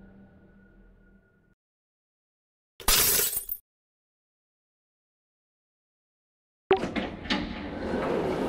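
Glass window smashed by a drone in the Pink Monster horror video game: a short, bright crash burst after near silence, followed later by a louder clattering shatter and lingering debris noise.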